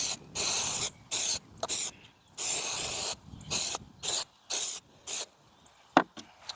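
Spray adhesive hisses in short, sharp bursts onto a custom LVP flooring transition, about eight close, loud sprays separated by brief pauses, with no talking.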